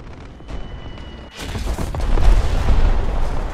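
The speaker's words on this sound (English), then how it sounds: "I thought those bombs were on me for sure" Explosions from bombs dropping in War Thunder, a loud broadband boom building from about a second and a half in and rumbling on heavily to the end, with low booms layered over continuing battle noise.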